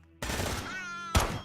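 Automated stationary machine gun turret in the game Quasimorph letting off a brief burst of fire, followed by a second sharp blast about a second later.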